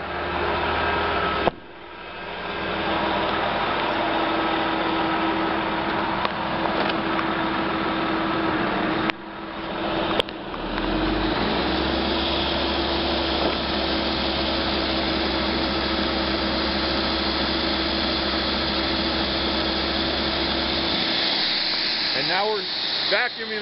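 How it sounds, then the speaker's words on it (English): A loud sewer bypass vacuum machine runs continuously with a steady droning hum, briefly dipping twice, while people talk over it. "So now we're going to go back and turn on the vacuum."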